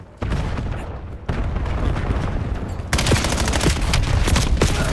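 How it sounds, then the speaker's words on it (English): A cluster grenade goes off in a video game, a burst of booming detonations followed by dense, loud gunfire and crackling impacts that swell in intensity toward the end, with no speech. "Cluster grenade sent."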